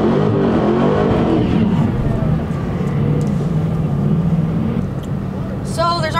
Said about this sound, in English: Like tons of burnouts happening.